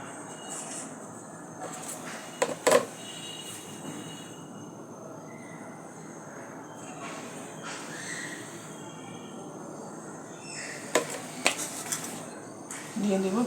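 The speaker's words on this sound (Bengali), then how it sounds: "তেল গরম হলে দিয়ে নেব পেঁয়াজ কুচি" Chopped onion fries in a little hot oil while preparing a sweet pumpkin stir-fry, giving a steady close hiss with a few sharper sputtering pops near the start and end.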